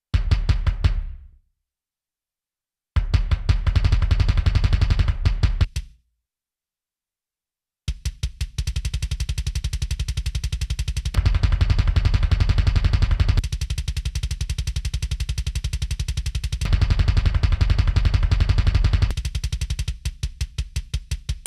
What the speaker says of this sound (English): For our third kick, I used Blow Me Dry sample.